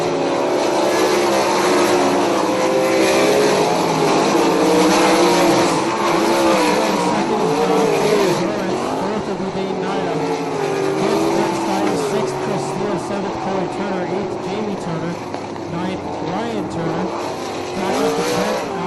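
360 sprint cars race around a dirt track at the Big O, with a loud, continuous engine roar that rises and falls in pitch as the cars accelerate and pass, lasting the whole stretch without letup.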